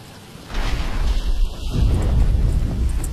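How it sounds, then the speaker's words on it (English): Rain and thunder in the Batman Arkham Asylum video game: a deep rolling rumble swells in and holds under a steady wash of rain, loud and close. "But it's starting to rain."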